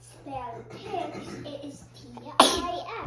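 A young child's sneeze bursts out sharply near the end, loud and close, following a stretch of child and adult conversation over a steady low hum.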